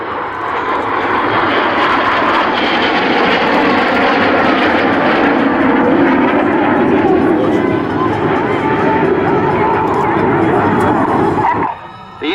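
RAF Red Arrows jets pass over the Luchtmachtdagen air show with a loud, sustained engine roar that fills the whole stretch, swelling slightly before cutting off sharply near the end, with a dog barking faintly beneath.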